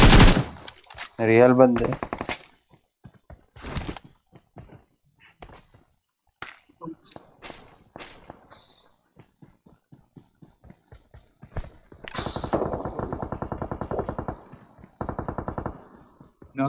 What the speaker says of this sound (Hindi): इधर की साइड से आ रहे फायरिंग